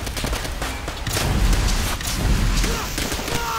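In a World War I video game, dense gunfire and booming explosions rumble continuously and loudly, with rapid cracks layered over heavy low thuds.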